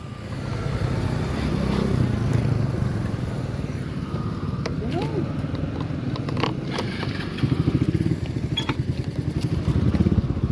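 A motorcycle engine runs steadily at moderate distance, its low rumble continuous under faint ambient noise with a few brief higher sounds.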